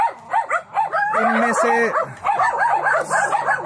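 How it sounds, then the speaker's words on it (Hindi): Several dogs yip and bark in short, overlapping bursts outdoors on a partly cloudy day, fairly close and steady throughout, with someone talking over them. "ये देखिए, यहाँ पर कुत्ते मौजूद हैं।"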